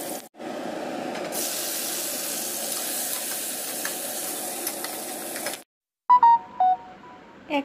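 Vegetables such as pointed gourd, brinjal and lentil dumplings frying in oil on a gas stove, a loud steady sizzle that cuts off abruptly, followed by a few short clinks and knocks.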